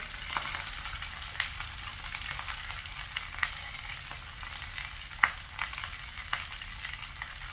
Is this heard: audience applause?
no